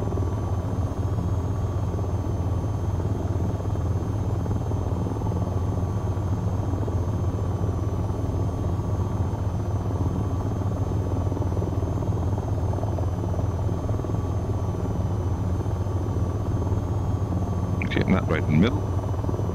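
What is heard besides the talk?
AH-94 helicopter flying in video game VTOL VR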